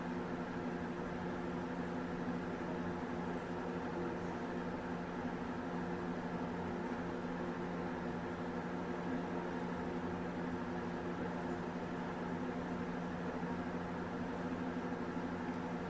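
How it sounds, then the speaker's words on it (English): A current transformer driven into saturation during an electrical test gives off a steady, even electrical hum with layered tones, unchanging and moderately quiet throughout, with no talk. "You can hear the hum from the CT."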